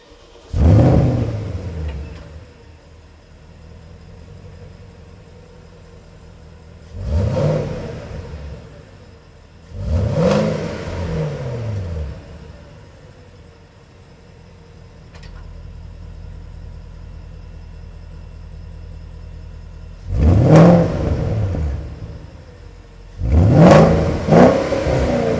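Porsche engine revving, heard close at the exhaust tips: several sharp throttle blips rising and falling, separated by a low idle burble, loud and with no talk.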